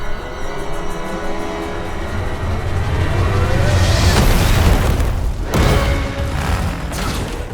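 Loud booming explosions from the animated series Jurassic World Camp Cretaceous, deep rumbling blasts building to a heavy peak with a second sharp burst near the end over a dense action soundtrack.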